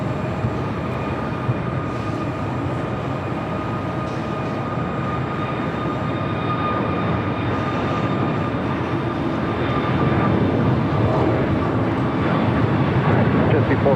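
A jet airliner rolls and climbs away from LAX runway 24 right, a steady broadband engine roar that swells slightly toward the end, with a faint voice over it.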